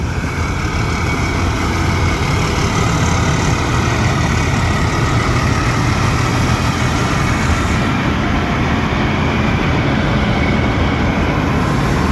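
A 20-year-old Phon Kinnaree rice combine harvester's heavy engine runs loud and close, a dense continuous roar that stays constant for the whole stretch with no voices.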